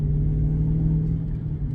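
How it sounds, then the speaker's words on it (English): A Ford Mustang's aftermarket exhaust gives a deep, steady low rumble close by, a brief continuous burble with no talking. "we're getting a little gurgle pop out of her"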